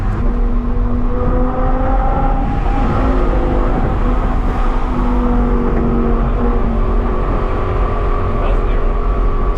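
An Audi R8 V10 with an IPE exhaust drones steadily from inside the cabin during a night drive, a loud continuous engine note with shifting tones, and people talk over it.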